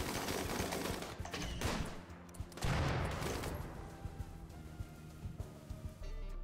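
Sustained video game gunfire, dense bursts of automatic shots and volleys overlapping in a continuous loud barrage, with sharper individual cracks standing out near the end.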